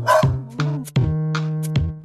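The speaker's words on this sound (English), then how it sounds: "There was a farmer, had a dog, and Bingo was his name" Dog barking inside the children's song Bingo: several short, close barks and yips in a quick irregular run, sitting over a sustained musical tone.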